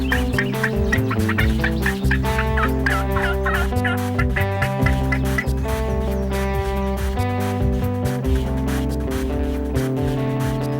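Wild turkey gobbler gobbling repeatedly in Kentucky, loud rattling gobbles in quick bursts that fill the whole stretch, with no talking.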